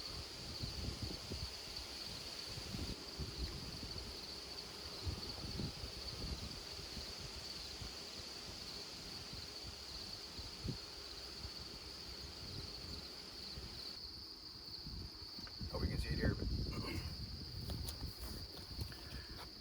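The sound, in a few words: honeybees buzzing in an open beehive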